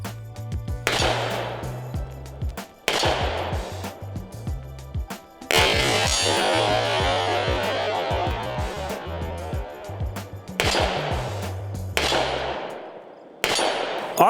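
A Smith & Wesson 586-L Comp Performance Center revolver fires Federal PowerShock 180 grain hunting loads. About six sharp, booming shots ring out at irregular intervals, each with a ringing decay, over background music.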